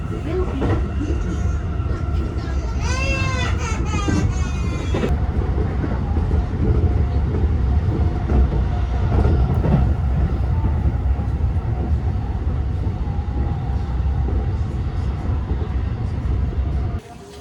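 A train runs on rails, heard from inside the carriage as a loud, steady rumble with rhythmic clatter, while a brief squealing tone rises early on and faint voices sound beneath.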